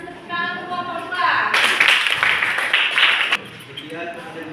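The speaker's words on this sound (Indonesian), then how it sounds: "Kita kasih tepukan kelompok 2." A classroom audience claps for a student group after their presentation, a burst of applause swelling in the middle and fading out, with talk and voices around it.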